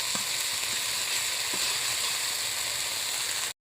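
Spice paste sizzling in hot oil in a pan for a silver carp fish curry, a steady loud frying hiss with small pops, cutting off abruptly at the end.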